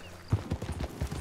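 Horse hooves clip-clop steadily in the Red Dead Online video game, a quick run of evenly spaced footfalls that stays close and fairly loud, ending in a brief sharp burst.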